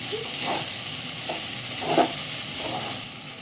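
Food frying in a pan and stirred with a spoon, a soft steady sizzle broken by a few brief scraping strokes, close and quiet, with no talking.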